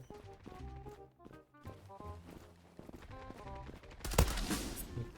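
AK-47 gunfire in the Zula online shooter, rapid rhythmic bursts of shots over about four seconds, followed by a louder, denser close volley.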